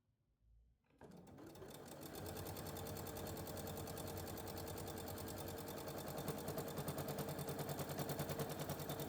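After a brief quiet start, a sewing machine starts up and runs steadily through leather, a fast rhythmic mechanical chatter of stitching that continues to the end.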